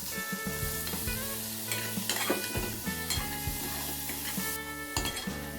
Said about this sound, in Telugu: ఇప్పుడు చికెన్ కొంచెం మంచిగా ఫ్రై చేసుకుందాము